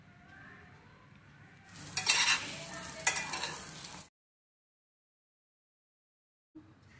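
Chicken fried rice with ground black pepper stirred in a pan, a burst of scraping and sizzling for about two seconds that cuts off into silence, with a faint clink near the end.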